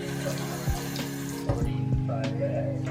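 Bathroom sink tap running steadily while someone brushes their teeth, a constant close hiss of flowing water with a few soft clunks and splashes over it.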